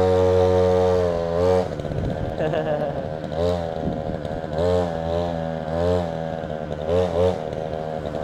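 A tiger-style motorcycle engine at a dealership, loud and close, revving repeatedly in rising and falling surges over a steady harmonic idle, with no talk over it.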